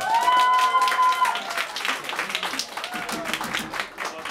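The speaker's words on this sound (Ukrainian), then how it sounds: "Аплодисменти їм, учасникам." An audience at a poetry battle in Ivano-Frankivsk claps for the contestants, a dense patter of many hands sustained throughout, with a voice speaking over the start.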